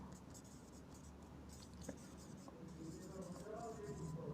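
Pen or marker strokes scratch across a board during a pharmacology lecture, a series of soft close scribbles with faint taps, under a low background hum and quiet vocal sounds.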